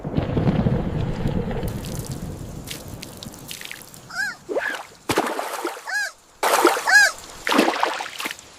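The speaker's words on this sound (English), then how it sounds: "Rain is coming!" Cartoon rain arriving on a farm: a rushing wash of rain noise opens the scene, then gives way to bursts of splashy sound effects and short, bright chirping cartoon tones in separate clusters.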